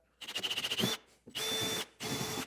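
A power drill whirs in three close bursts drilling oval holes in wood, the first stuttering in quick pulses, the next two steady and sustained with short pauses between.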